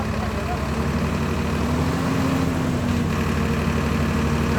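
A Swaraj 969 CRDI tractor engine runs steadily close by, a continuous low rumbling drone that never lets up, with faint voices in the background.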